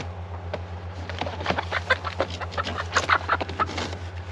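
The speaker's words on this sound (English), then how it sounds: "I got 1 olive egger, 2 Americanas, and a brown sex link." Small backyard flock of hens (an olive egger, two Americanas and a brown sex link) clucking softly in a string of short, uneven calls over a steady low hum.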